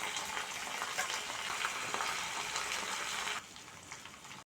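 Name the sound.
garlic, cumin, mustard seeds and curry leaves frying in a pan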